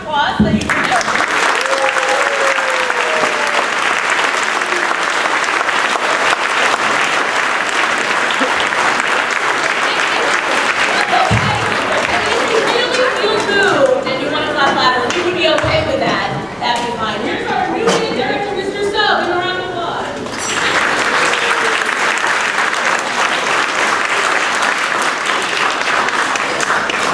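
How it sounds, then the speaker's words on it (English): An audience at an elementary school spring band concert claps and cheers in sustained, loud applause filling the room, with voices and whoops rising through it midway before the clapping swells again. "So can you guys just get us started with the biggest round of applause that you can get?"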